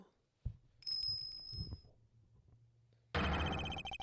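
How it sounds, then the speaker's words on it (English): A high, sustained bell-like ring in the video game Ace Attorney Investigations, sounding over soft low game tones before a louder, dense burst of game music takes over. "That sound. Is that a bell?"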